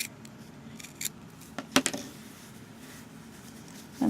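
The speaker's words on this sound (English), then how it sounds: "And I'm going to take my scissors and I am going to cut," A few sharp snips of scissors cutting fabric at a sewing seam, brief and close, separated by quiet pauses with no speech.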